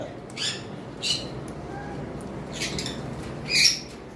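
Sun conure parrots kept as a pair give several sharp, harsh squawks at irregular intervals, loud and close, over a low background murmur.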